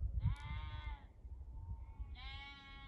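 Sheep bleat at sunset on an evening walk, two wavering calls separated by a short pause, fairly close over faint low background rumble.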